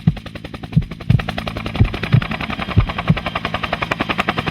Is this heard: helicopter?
yes